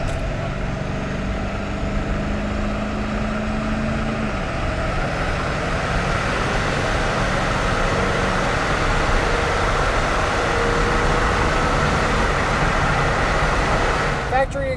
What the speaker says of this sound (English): You hear a little bit of the exhaust system, but it's really more motor than anything.